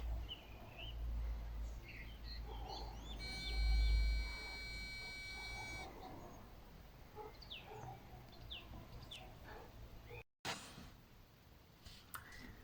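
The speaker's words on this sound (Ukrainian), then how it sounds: "Так тихо, пташки співають." Birds sing and chirp sporadically in a quiet outdoor setting, with a brief low rumble and a steady tone partway through.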